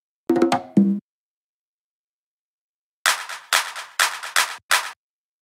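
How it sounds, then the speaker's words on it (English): Drum fills from a Latin tech house production: a short pitched percussive hit opening the passage, then after a pause a run of five sharp, bright, punchy drum hits in quick succession, loud and alone. "And the last thing, the drum fills."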